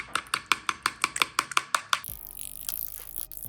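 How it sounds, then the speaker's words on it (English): A fork whisks five egg whites and two whole eggs in a bowl: about a dozen quick, evenly spaced clinking taps over two seconds, then a quieter, rougher scraping stir. "We're gonna get a fork. We're gonna whisk that up."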